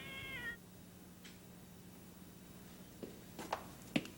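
A cat meows once in a drawn-out, falling cry near the start, followed by a quiet stretch over a steady low hum and a few faint scratchy clicks near the end.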